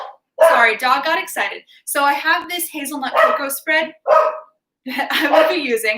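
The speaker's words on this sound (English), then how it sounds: "Sorry, dog got excited." A dog barking and yipping excitedly in a home kitchen, several quick barks close by, mixed in with a person talking.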